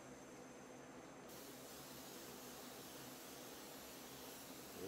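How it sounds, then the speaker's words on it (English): Aerosol spray can misting a sealant coat over custom-painted Transformers Grimlock action figure parts, a steady continuous hiss lasting throughout, close and fairly loud, with no talking. "You just got to remember where you sprayed and watch as you spray."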